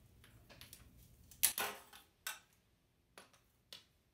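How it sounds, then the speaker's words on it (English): A torque wrench with a 17 mm socket loosens the oil drain bolt on a Honda Grom, a quiet run of sharp metallic ratchet clicks at uneven spacing, close and faint in a still room. "We're going to set the torque wrench to go counterclockwise to loosen the drain bolt."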